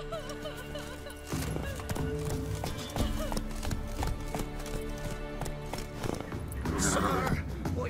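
Roach the horse in The Witcher 3 gallops with a steady clip-clop of hooves and lets out neighs near the end, all over a busy game backdrop of music and ambience.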